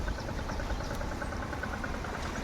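A farm tractor idles in a rain-soaked village paddy field prepared for rice planting, a steady low engine rumble continuing without pause at close range.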